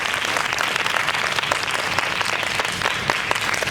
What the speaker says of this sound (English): let's give all of our performers another round of applause